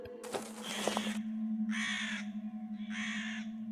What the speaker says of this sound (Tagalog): Nakita ko nga ang malaking ibon na nakadapo sa ibabaw ng bubungan ng bahay.